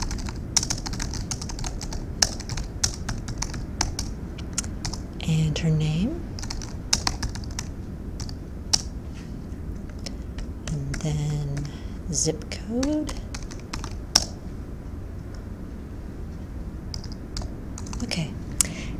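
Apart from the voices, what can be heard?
typing on a computer keyboard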